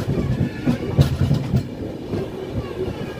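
A passenger train runs between Chennai Central and Vijayawada, a close rolling rumble with uneven clattering thumps from the wheels and brief louder bumps, no talk.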